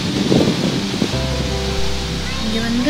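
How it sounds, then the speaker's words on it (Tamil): Strong wind and heavy rain outdoors, a dense rushing wash across the whole clip, with a person talking over it and a tonal hum emerging partway through. "வந்து பயங்கர காற்று பயங்கர மழை பெஞ்சிட்ருக்குது"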